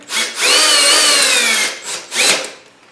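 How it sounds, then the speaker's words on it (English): A cordless drill run with a 7 mm Allen wrench locked in its chuck to spin the chuck off, giving one long loud whir in the middle with two shorter whirring bursts around it, and no voices. "I always like using the strength of the drill"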